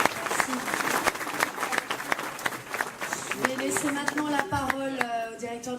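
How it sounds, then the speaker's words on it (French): Applause from guests at the inauguration of a new BMW showroom in Lyon, a short round of clapping that fades as a voice begins speaking over it. "je vous demande de l'applaudir."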